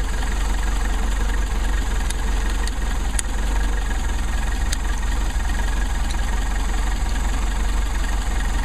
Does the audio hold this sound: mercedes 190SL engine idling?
yes